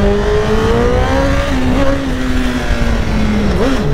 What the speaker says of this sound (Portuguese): Ah, pô, só acelerar, a moto sobe.